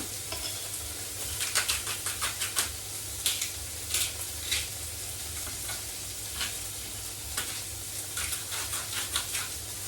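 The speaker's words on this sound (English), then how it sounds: "I like to add a little bit of salt to when I'm sauteing onions and things like that, just because it makes it sweat a bit more." Onions sauté in a pan with Himalayan rock salt, a steady sizzle broken by clusters of crisp crackles and stirring scrapes, close by with no speech.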